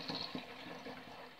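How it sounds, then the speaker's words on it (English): Rinse water that was used for bottles being poured out, a soft steady splashing trickle close by with a couple of brief sloshes near the start, with no voices. "I'm just going to use some of the water that I rinsed the bottles in to do this"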